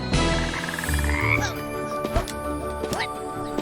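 A cartoonish frog character croaks in the Wonderbox video game, a close, loud run of croaks over game music with short rising chirps.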